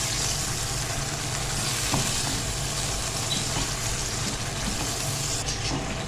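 Masala with yogurt and chicken being fried and stirred in ghee in a pan for arvi gosht, a steady loud sizzle running throughout with faint scraping of stirring and no talk.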